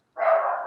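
A single short dog bark, close and fairly loud, alone against silence.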